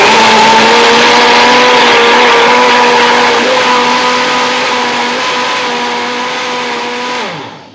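A blender whirs through a chocolate smoothie with strawberries, a loud, close, steady motor whine that sags slightly in pitch as it runs, then spins down and stops after about seven seconds.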